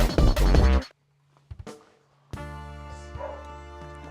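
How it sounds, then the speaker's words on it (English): A puppy during playful bite-work training, with a burst of loud yapping barks, a pause with brief yelps, then a sustained whiny whimpering cry close to the microphone. "Oh my gosh, it's a puppy."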